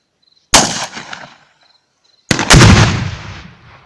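A GP-25 under-barrel grenade launcher fires VOG-25 grenades outdoors, heard as two loud sharp blasts about two seconds apart, each with a rumbling decay, and faint insect chirps between them.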